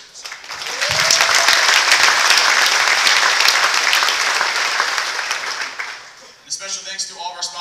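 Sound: applause at a conference

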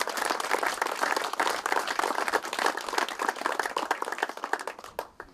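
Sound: audience applause at golf trophy presentation

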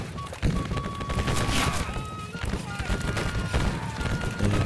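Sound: musket volley gunfire in Battle Cry of Freedom video game

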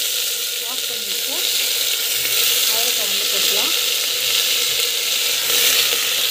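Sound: mustard seeds and cumin sizzling in hot oil

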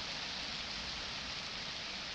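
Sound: rain effect in the video game 35MM

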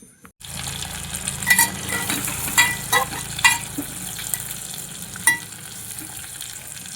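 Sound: brinjal tempering sizzling in pan

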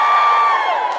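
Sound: live podcast audience cheering

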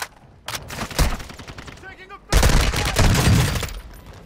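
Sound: gunfire in a video game

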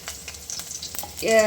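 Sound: garlic frying in oil

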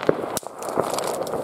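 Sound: firecrackers exploding on New Year's Eve

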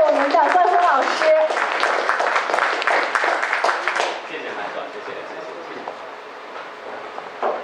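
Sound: audience applause welcoming the host

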